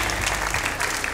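Dense, continuous applause from a studio audience at a live televised bingo lottery show, loud and steady throughout.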